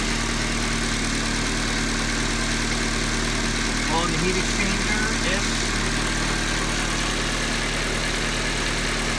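A truck engine idles steadily at a constant low rumble throughout, with a person talking over it.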